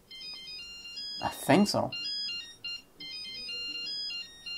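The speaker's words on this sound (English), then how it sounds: "Since when defrag does sounds like that? Those are Nokia sounds, right?" Nokia-style ringtone melodies of short electronic beeps play during a defrag in the Windows 93 web parody, repeating in quick tonal phrases at moderate volume, briefly interrupted by someone speaking a few words.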